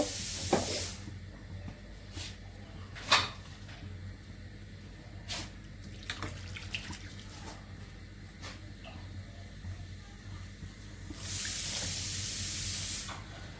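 Water added to a spiced fish curry in a pan on a stove gives short bursts of hissing spray at the start and end, with quiet clinks and taps in between, heard close up in a fairly quiet room.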